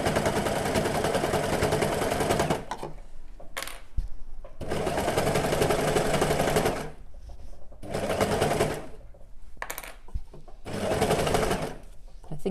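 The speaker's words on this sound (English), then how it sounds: "when you're overlocking, just keep checking what's going on underneath as well" Overlocker sewing machine stitching fabric in loud, close bursts of rapid whirring, several runs of two to three seconds separated by short pauses.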